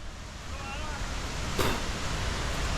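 Rabacca Waterfall in St. Vincent gives a steady, broad roar of falling water that builds slightly as the listener moves closer, with wind buffeting the microphone and a brief burst of noise midway.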